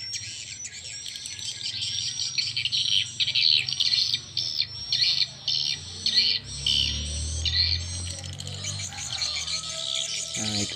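Edible-nest swiftlet 'piro' lure call, a loud, dense run of high, rapid chirps and trills repeating in bursts over a steady low hum, with no voices.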